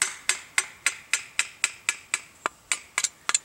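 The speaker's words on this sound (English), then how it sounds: "Now it's just a simple matter of nailing this nail." Sharp percussive taps as a nail is driven using a screwdriver handle, for a DIY Altoids tin candle lantern box; about a dozen crisp, evenly spaced strikes, close and clear with no talk.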